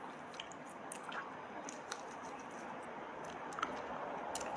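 Someone chews and eats sea cockroach up close, with faint, wet squishing and small crunches scattered over a quiet background.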